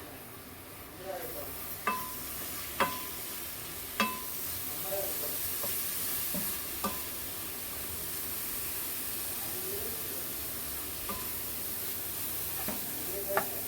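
Jaggery water poured a little at a time into a sizzling kozhukattai filling in a pan, with soft stirring scrapes and several sharp spoon taps against the pan over a steady frying hiss.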